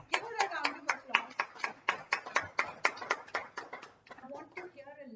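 Hands clapping in a round of applause from a small audience at a Toastmasters club meeting, a dense burst of sharp claps that thins out and fades toward the end.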